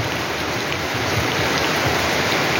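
Steady rain pours down around a house, a dense, even hiss of drops on surfaces that holds throughout without pause, fairly loud and close, with no voices.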